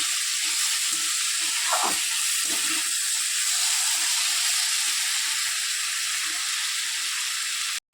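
Chicken fries in a pan under a constant bright hiss, with a few soft scrapes and knocks from stirring, close and even throughout, then a brief dropout at the very end.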